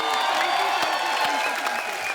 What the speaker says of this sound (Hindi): एक बार सबसे पहले तो फराह मैम के लिए जोरदार तालियां